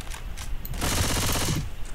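Rapid automatic gunfire from a weapon in Left 4 Dead 2, a short opening pop or two followed by a loud, steady burst of closely spaced shots lasting about a second.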